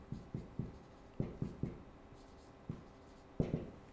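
Chalk tapping and scratching on a board in short irregular strokes, faint and close in a quiet room.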